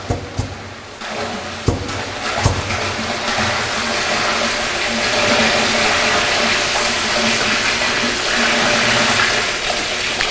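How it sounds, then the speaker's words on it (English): Water gushes out of a tipped 200 litre drum through its 50 mm port on a telescopic drum rotator, a continuous loud pouring rush with occasional knocks and clunks early on. "Always surprises me how much water is in a 200 litre drum, especially when you're tipping out of the 50 mil port."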